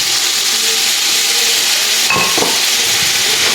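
Prawns hit a hot frying pan for Chinese fried rice with garlic, ginger and onion, giving a loud, steady sizzle that flares sharply with a burst of crackling as they land.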